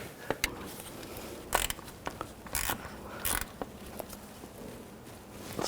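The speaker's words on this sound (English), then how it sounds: "We'll get the bolts started. Tighten that down." Bolts are tightened on a crankshaft position sensor of a 2009-2017 Volkswagen Tiguan, giving close, intermittent ratchet clicks and metallic scrapes spaced over several seconds.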